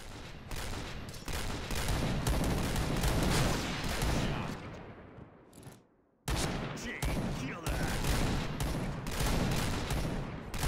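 Repeated sniper rifle gunfire in a first-person shooter game, loud cracking shots in quick succession, a short silent gap midway, then more firing and impacts.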